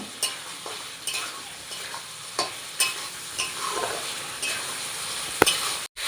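Fried potatoes stirred into a thick spice masala in a pan for a fish roe curry, with a spatula scraping in regular strokes about every half second over a low sizzle, close and clear.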